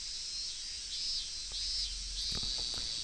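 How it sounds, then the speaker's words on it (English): Early cicadas in the visual novel Higurashi Rei keep up a continuous high, shrill drone that swells in repeating pulses, with a few soft low thumps underneath. "what fills the room instead is the voice of the early cicadas"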